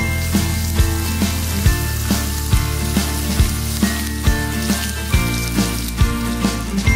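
Onion, capsicum, chilli paste, butter and eggs stir-fried on a hot tawa for seafood tawa rice, with a steady loud sizzle over background music and regular thumping beats.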